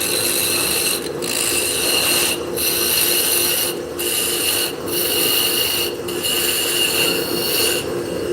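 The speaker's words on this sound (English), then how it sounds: "just scrape away a bunch just so I can make sure that we're running true" Wood being scraped with a hand tool as it spins on a lathe, a steady close rasping drone broken by five brief pauses as the tool lifts from the wobbling, out-of-round blank.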